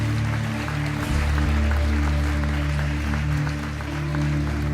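A church congregation claps together while deep, steady organ or keyboard tones sustain beneath. The applause is moderate and continuous, partly blended into the loud music bed.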